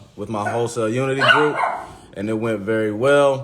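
A pet dog lets out short yips and whimpering barks indoors, mixed with and partly under someone talking close by.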